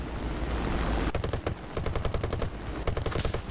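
A Blenheim Mk IV's rear gunner in War Thunder fires his 7.7 mm machine gun in loud, rapid bursts that break off briefly and resume, over a steady engine drone.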